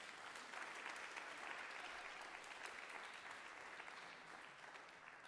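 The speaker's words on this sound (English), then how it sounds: "You guys give Brother Julius one more round of applause." At a spoken word and poetry night, an audience fills the room with steady, sustained applause, a dense, even wash of many hands clapping, heard faintly and without a break.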